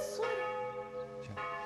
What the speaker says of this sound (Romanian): Bate clopote la Sfântul Nectarie!